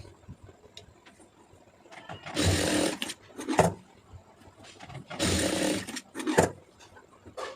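A sewing machine stitching the neck piece of a blouse runs in two short, loud bursts separated by pauses, with clicks and handling noises between them.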